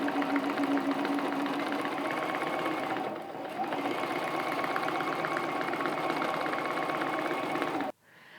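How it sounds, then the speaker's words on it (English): A sewing machine hums and chatters steadily through free-motion quilting travel stitching on a quilt block, running continuously for about eight seconds with a brief dip midway before stopping abruptly. "I'll do all my travel stitching within the design"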